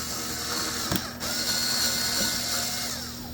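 A screwdriver backs out the small screws holding a VHS tape shell together, making ratcheting mechanical clicks over a steady background hum, with no voices.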